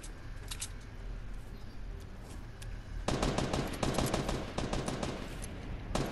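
Fortnite gunfire crackles in rapid bursts, faint and sparse at first, then louder and denser automatic fire in the second half, with no talking over it.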